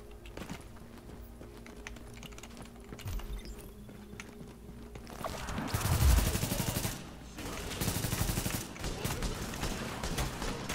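Turret gunfire in the video game The Division, rapid bursts of shots swelling in the second half alongside clattering keyboard-like taps, moderately loud, with players talking at times.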